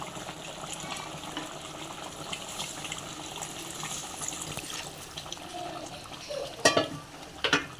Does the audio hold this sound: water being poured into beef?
yes